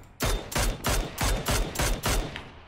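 Rapid rifle fire from a Mini14 or SLR in a game, about seven sharp close shots in a steady rhythm with no talk.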